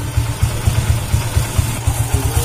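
A repaired TVS Star Sport motorcycle engine idles steadily close by, its rhythmic low thumping and light mechanical clatter continuing evenly throughout with no one speaking.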